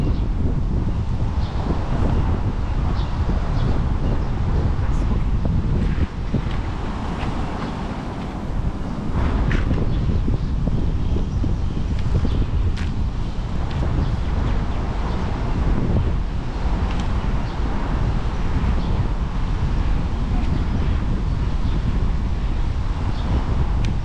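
Strong wind buffets the microphone continuously, a loud rumbling roar with gusts, over faint background sounds of open water on a river.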